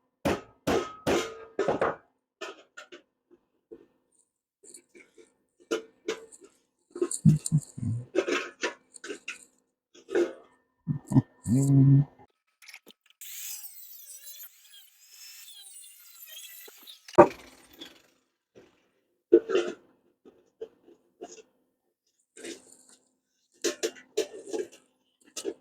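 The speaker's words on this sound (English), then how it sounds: "Just shaping the metal a little bit at a time, trying to get it to fit just as much as I can" Hammer blows shaping galvanized scrap metal in a backyard for a fairy or toad house, heard as scattered clusters of sharp metallic knocks spread across the span, with quiet pauses between bursts.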